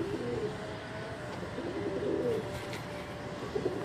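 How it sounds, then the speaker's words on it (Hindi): Soft, low cooing from an old Sialkoti pigeon, a domestic breed, repeats in a few murmured phrases over a steady background hum, fairly close and moderately quiet. "ये जी हमारा सबसे पुराना सियालकोटी कबूतर"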